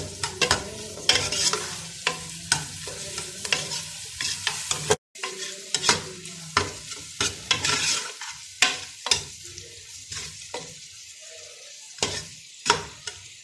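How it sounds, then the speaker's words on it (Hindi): Garlic and ginger paste sizzles and fries in a hot pan while a spoon stirs and scrapes repeatedly, with sharp clicks of utensil against metal over the crackle. "लहसुन अदरक को शामिल करने के बाद इसको भी भूनेंगे हम"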